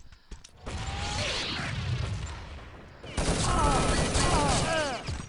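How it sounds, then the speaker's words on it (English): Grenade blasts and rattling gunfire fill a capture-the-flag match in the video game Urban Zone, with dense, loud booming in two waves separated by a brief dip, under faint background talk. "grenades coming in"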